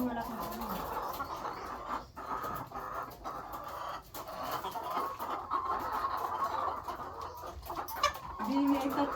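RTL laying hens cluck and fuss in their coop during an egg harvest, with steady moderate clucking heard close by while people talk over it.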